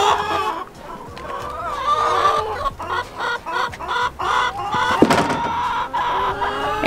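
Chickens cluck repeatedly in a greenhouse coop during a Minnesota spring, nervous calls overlapping in an irregular stream at close range, with a sharper squawk partway through and wind noise underneath.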